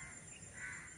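Crows caw in a village in the early morning, faint and somewhat distant against a soft, steady outdoor background.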